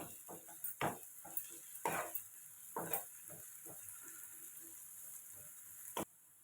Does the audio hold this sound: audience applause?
no